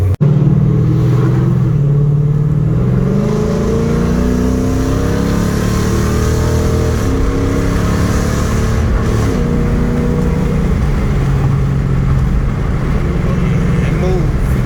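A Mopar car engine rumbles loud and close, its pitch rising and falling through revs and downshifts as the car pulls away, with a steady deep drone throughout.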